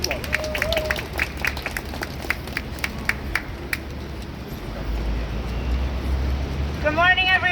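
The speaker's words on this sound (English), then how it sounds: "Give her a round of applause" Outdoor rally crowd applauding a speaker at 80 Maiden Lane. Scattered, fairly faint claps and cheers sit over traffic rumble, and a voice starts speaking at the end.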